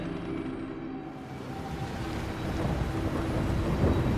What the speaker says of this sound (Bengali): বৃষ্টি ঝরছে ঝুমঝুম